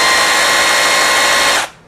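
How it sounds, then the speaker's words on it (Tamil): A battery powered drill runs at steady high speed with a loud, continuous whine, then cuts off abruptly just before the end. "இது வந்து இது ட்ரில் பண்ணுறது"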